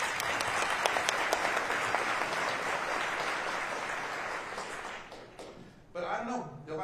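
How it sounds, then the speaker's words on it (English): Audience applause at a university State of the University address, a dense steady roar of clapping that holds for about five seconds, then thins out as a voice begins speaking near the end. "let's give a round of applause."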